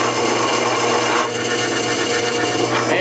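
A 3/8 inch punch cuts a plastic washer, giving a steady, loud grinding and whirring machine noise with no break for three seconds and no talk.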